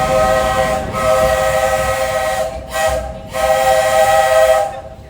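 A Disney park steam train whistle sounds on a ride toward Frontierland, loud and near, with three long tonal blasts separated by brief gaps over a rumbling background.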